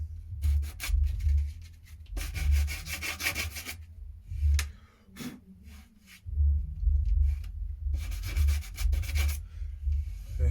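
Rough wood on a Ludwig drum shell sanded by hand, loud rhythmic rasping strokes in several bursts separated by short pauses, close up with no talking.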